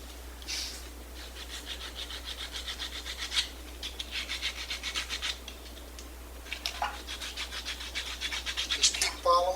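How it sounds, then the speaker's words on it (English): Sandpaper rubs in short repeated strokes along the twist of a wooden flame finial. The scratchy rasping comes in bursts with brief pauses, close and fairly quiet under a steady low hum. "Now all I'm going to do is take a piece of sandpaper and finish the twist out."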